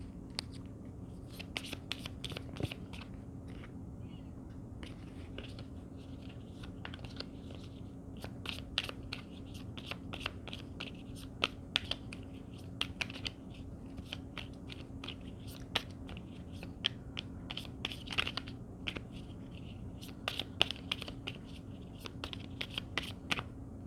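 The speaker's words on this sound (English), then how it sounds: "let's shuffle" A small deck of only thirteen cards being shuffled, giving a steady run of quick, crisp clicks and riffles at close range with no talking.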